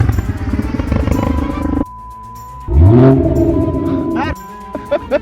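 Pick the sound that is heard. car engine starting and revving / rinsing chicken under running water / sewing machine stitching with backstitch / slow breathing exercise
car engine starting and revving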